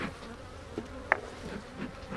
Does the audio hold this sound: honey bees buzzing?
yes